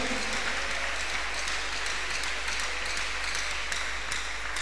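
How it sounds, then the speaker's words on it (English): A church congregation claps hands together at a Tuesday miracle service, a dense, steady wash of applause filling the room for several seconds with no one speaking over it. "Clap your hands in appreciation."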